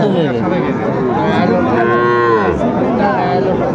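A Sahiwal bull calf moos loudly and close by at a busy cattle market, with one drawn-out call rising and falling over steady crowd noise.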